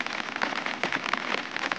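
Heavy monsoon rain falls steadily in the Uttarakhand mountains, a dense, even patter of drops hitting surfaces at close range with no voices.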